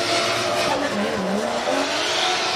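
A drift car sliding through the Ebisu West course at a Formula Drift Japan event, its engine roaring loud and close and its tires squealing continuously through the slide.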